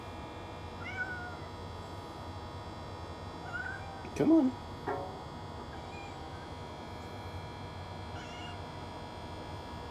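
An elderly female outdoor cat gives a few short meows near the middle, close and moderately loud over a steady background hum, with a person briefly speaking.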